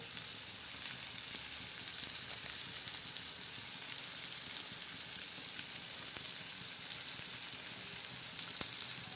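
Green chillies sizzling as they fry in a pan for a ridge gourd and moong dal dish, a steady bright crackling hiss that holds evenly throughout, with no speech.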